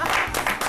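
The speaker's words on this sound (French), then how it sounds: "je pense que ça s'applaudit" Brief burst of lively audience applause on a French-language evening television show, many hands clapping in quick uneven pulses with a crowd murmur underneath.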